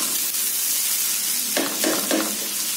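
Grated potatoes sizzle steadily in a hot frying pan, a loud continuous hiss with a few brief bursts of scraping as they are spread and stirred.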